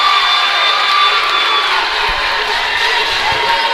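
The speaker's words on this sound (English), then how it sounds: "Big round of applause there for" A basketball game crowd cheers and whoops in a gym, a loud, sustained roar of voices and applause with higher shouts riding on top.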